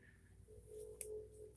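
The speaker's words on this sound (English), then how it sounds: "That's my phone ringing." A cell phone ringing indoors, heard as brief, faint electronic tones with sharp high chirps near the end, over quiet room hum.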